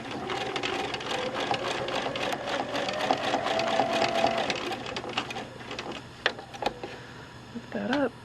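A sewing machine runs steadily at close range while free motion quilting feathers, its rapid needle stitching continuous through most of the clip before slowing to a few separate clicks and handling sounds near the end.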